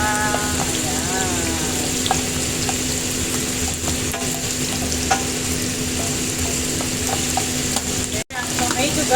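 Garlic sizzles loudly and steadily in hot oil in a pan as it is stir-fried for sautéed string beans, with occasional utensil scrapes and stirring over the continuous frying hiss.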